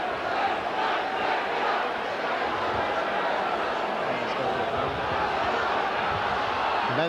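Rugby league crowd at a Leeds versus Castleford match reacting as player Lee Cooks lies injured, a steady, broad roar and murmur of a large stadium audience filling the whole stretch, with commentary voices underneath.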